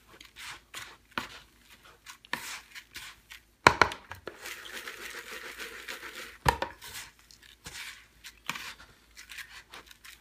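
Pipe tobacco being mixed thoroughly by hand, giving close, quiet, irregular rustling and crinkling with a few sharper crunchy bursts and scratchy handling noises, no talking.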